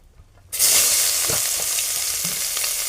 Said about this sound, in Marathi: तेल आपलं टाप तापलेलं आहे अंदाजे दोन फळे मी तेल ठेवलेलं आहे आता त्यामध्ये मी कांदा टाकणार आहे